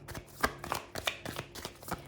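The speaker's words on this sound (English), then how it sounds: "I did see expectation before I started shuffling this deck" A deck of tarot cards is shuffled close by in quick rhythmic riffles and soft slaps, about six bursts over two seconds with no talking.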